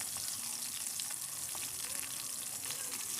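Fish frying in hot oil, a dense, steady sizzle that fills the whole clip at close range with no speech over it.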